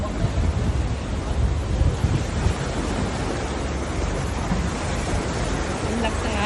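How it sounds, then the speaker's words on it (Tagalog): Steady roaring surf fills the scene on an island shore, a dense continuous wash of strong crashing waves mixed with wind buffeting the microphone, with no distinct pauses. "Ang lakas ng alon ngayon"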